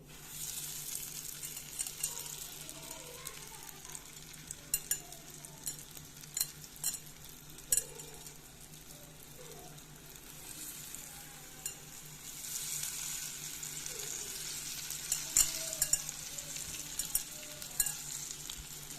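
Battered cauliflower fries in oil in a pan with a steady crackling sizzle throughout, sprinkled with sharper pops and spits, fairly quiet and close with no talking.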